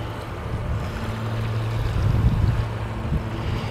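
Wind blowing over open water near a lighthouse and a bridge, heard as a steady, fairly loud low roar with buffeting gusts that swell briefly partway through.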